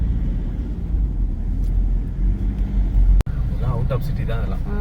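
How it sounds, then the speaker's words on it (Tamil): Road traffic with cars passing rumbles steadily in the background as a person talks over it, with a brief sharp click partway through. "எவ்வளோ டிராஃபிக் பாருங்க"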